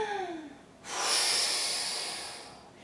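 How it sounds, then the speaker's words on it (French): A Pilates instructor demonstrates an exercise breath: one strong, drawn-out exhalation through the mouth, loud and close, alone after a brief faint lead-in. "Je te donne un exemple de respiration"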